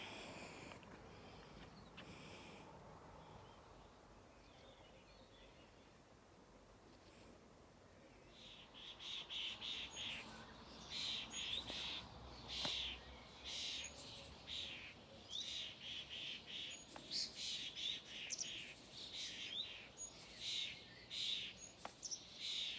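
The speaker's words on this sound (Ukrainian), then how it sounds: "Сьогодні просто прірва літає шпаків. Вони всі щось гучно кричать, кудись поспішають." A flock of starlings calls near a garden greenhouse in May, faint at first, then a dense busy chatter of chirps, whistles and squeaks from many birds, fairly distant and continuous.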